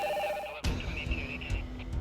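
A telephone rings with a steady electronic tone that cuts off abruptly partway through, followed by a low thud and dull background rumble.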